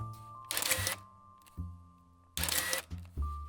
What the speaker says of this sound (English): Your camera will take 1 photo at a time.